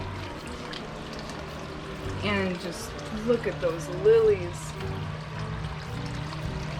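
A waterfall spills into a tilapia pond in an urban permaculture garden in Chicago, a steady close splash and trickle running throughout beneath a person talking.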